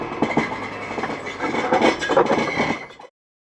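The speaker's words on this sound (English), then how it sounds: "that noise was the the bad unit bearing" A failing wheel unit bearing on a car rubs against the brake rotor, giving a steady rough grinding and scraping roar with rhythmic pulses that swell louder midway before cutting off abruptly.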